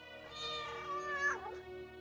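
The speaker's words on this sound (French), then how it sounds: "Le chat?" A cat gives one drawn-out, wavering meow that rises and then bends downward, heard alone and fairly quiet indoors.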